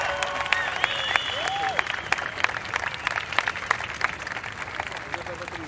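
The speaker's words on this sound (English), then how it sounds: "huge applause to your men's champion, EDP Vissla Pro, Leo Fioravanti" Outdoor crowd cheers and claps for the men's champion at a pro surfing contest, sharp individual claps rising through a steady applause bed, with talking and a few whistles mixed in.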